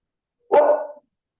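A single short, sharp dog bark rings out close by, alone against silence.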